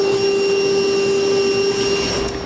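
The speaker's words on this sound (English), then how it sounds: "Now I'm going to use a vacuum to clean up all the metal shavings" A vacuum cleaner sucks up metal shavings from a truck bed during a gooseneck trailer hitch installation on a 2010 Ford F-series, a steady loud whine with a strong tonal hum and airy rush, running alone.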